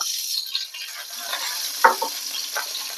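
Vegetables frying in a little oil in a pan while capsicum curry is cooked, a steady close sizzle with occasional soft stirring clinks and scrapes.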